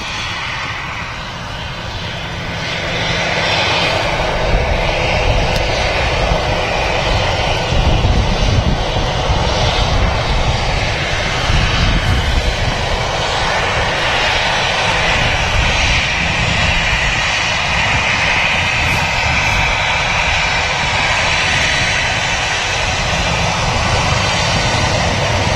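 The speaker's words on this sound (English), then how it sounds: "A Jet2 757 in the Holidays livery." A Jet2 Boeing 757 in Holidays livery roars at Manchester Airport, a loud, sustained jet engine rumble that builds over the first few seconds and then holds steady and broad, with no talking.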